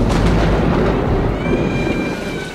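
Heavy thunder rolls as a continuous deep, loud rumble through the whole stretch, fading slightly toward the end, with no voices.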